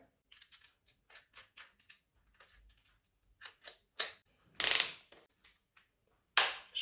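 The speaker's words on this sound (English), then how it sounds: "let's try screwing at the wood with the included bits" Parkside PSBSA 20-Li C3 20V cordless hammer drill driving a screw into wood: clicking, ratcheting handling noises, then two loud close bursts of whirring motor, each about a second long.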